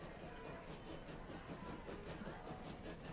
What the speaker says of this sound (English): Let's see this train come out here.